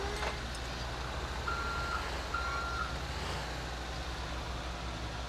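A truck in the video game GTA V gives a brief run of reversing beeps, three evenly spaced tones over a continuous low engine rumble.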